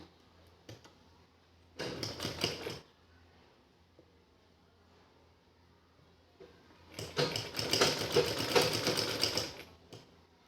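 A sewing machine stitches lace onto a cloth table cover in two bursts of motor whirr and rapid needle clatter, one short near 2 seconds and a longer run from about 7 to 10 seconds, with quiet handling in between.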